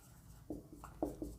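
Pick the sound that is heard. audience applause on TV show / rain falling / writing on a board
writing on a board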